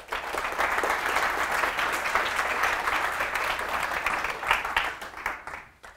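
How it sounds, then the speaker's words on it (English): Sustained applause from a lecture audience welcoming a speaker, dense steady clapping that swells and then tapers off near the end, with no talking over it. "So please give us a warm applause for Björn Ommer."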